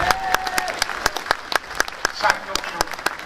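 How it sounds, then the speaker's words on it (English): An outdoor crowd at a statue unveiling event applauds a former steelworker turned poet and folk singer, with sharp distinct claps standing out over general clapping and voices talking. "Give him a big round of applause"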